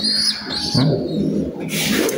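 Pigeons in a rooftop loft give soft, close coos and bird calls, with low throaty notes and a few chirpy sounds over a steady background, no speech.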